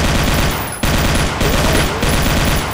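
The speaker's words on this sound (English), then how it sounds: "And then we have the assault rifle, which replaces the chain gun." An assault rifle in the Doom 2 mod Project MSX fires in continuous rapid automatic bursts, loud and dense, with brief breaks between volleys and no talking.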